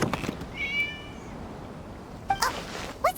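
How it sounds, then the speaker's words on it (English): A cat meowing in the video game Genshin Impact, a short meow early on followed by two or three brief, higher mews near the end, set over a quiet ambient background. "It was just a cat."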